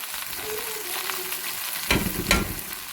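Okra and potatoes fry in a pan with a steady, loud sizzle and occasional stirring scrapes, two stronger bursts near the end, no voices.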